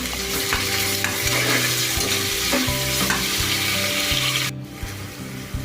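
Sliced onions with cumin and cloves fry in a pan for palak pulao, a bright close sizzle with repeated scraping stirs, then a sudden drop to quieter frying near the end.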